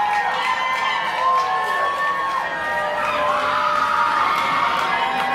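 Rowdy crowd at a live rock concert at the Troubadour in Los Angeles, cheering, whooping and shouting in a loud, steady roar with high yells rising throughout.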